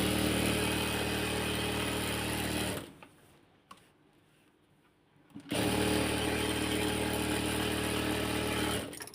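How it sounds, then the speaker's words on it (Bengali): A sewing machine stitches doubled fabric to make piping for a neckline, running in a steady loud whir. It stops for a couple of seconds, then starts up again and runs to the end. "তো বন্ধুরা এই কাপড়টাকে আমি এভাবে ডাবল করে নিচ্ছি, নেওয়ার পরে আমি এখন সেলাই শুরু করব।"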